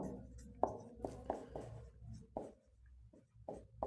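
Pen or chalk writing on a surface, a handful of separate scratchy strokes in an uneven rhythm with short gaps, close and fairly quiet with no talking.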